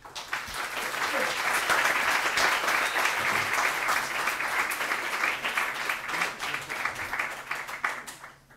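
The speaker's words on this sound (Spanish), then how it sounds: "Quiero que le ofrezcamos un cordial aplauso." An audience at an academic colloquium breaks into sustained applause, dense and even clapping that swells quickly, holds for several seconds, then tapers off near the end.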